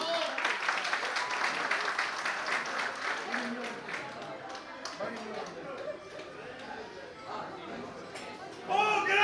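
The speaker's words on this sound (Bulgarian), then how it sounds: "Браво, аплодисменти!" Applause at a festive gathering, a dense wash of many hands clapping that gradually thins out, with voices chattering in the crowd throughout.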